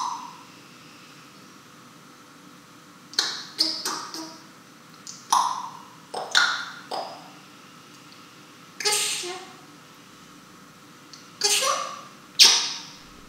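Elmo, a grey parrot, lets out repeated sharp squawks and calls in irregular clusters, close and fairly loud over a faint background hiss.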